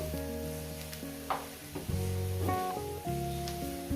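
Small mourala fish with radish and its stalks fry in a pan for a chachchari, a steady hissing sizzle under loud, continuous background music, with no voices.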